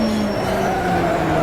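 A GT2 race car in the rFactor racing game at Mount Panorama skids near loss of control, a sustained engine drone with a rising, whining tire squeal, loud and continuous over roughly a second and a half.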